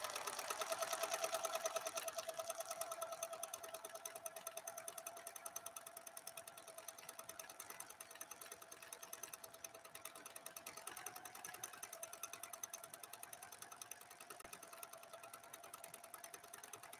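A PFAFF 7530 sewing machine runs a steady stitch line, its needle chattering rapidly and continuously, close and even, with a slight shift in pitch near the end and no speech.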